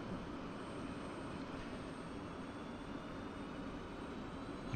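F-16 jet engine spooling up in a flight simulation game, a steady broadband roar with a thin high whine, holding constant and alone throughout.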